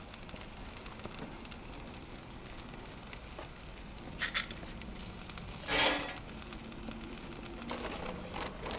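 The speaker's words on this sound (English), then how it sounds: "I hear it cooking." Pork chops sear in a pellet-fired outdoor pizza oven, giving a faint, steady sizzle and crackle with a brief louder burst midway, distant and continuous with no talk.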